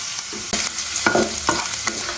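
Chopped garlic and ginger fry in oil for a potato paratha filling, giving a loud, close sizzle broken by several quick stirring scrapes and clacks.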